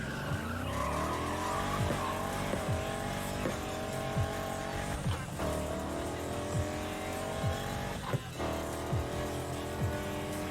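A 1965 Ford Mustang racing in Need for Speed Heat, the engine revving up through gear changes with repeated tire squeals and skids, loud and close, no talking.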